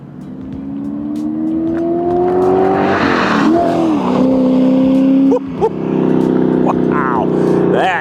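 A 2011 Factory 5 GTM roars up and speeds past close by, its engine note climbing in pitch, dropping sharply as it passes, then rising again through gear changes at full volume.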